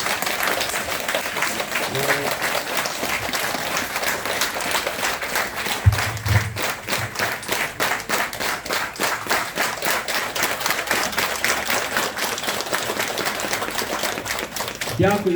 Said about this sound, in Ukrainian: Давайте оплесками подякуємо нашим діткам.